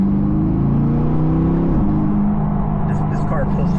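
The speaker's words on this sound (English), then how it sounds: "Just listen to that downshift." A Chevrolet C8 Corvette engine drones loudly and steadily, its pitch shifting sharply partway through as it downshifts, then settling into a lower hum with some rising whine near the end.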